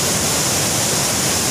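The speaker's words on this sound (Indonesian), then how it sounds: "Mantap sekali air terjunnya." A rain-swollen waterfall deep in the Kalimantan jungle pours down heavily, filling the air with a dense, constant roar of rushing water that never lets up.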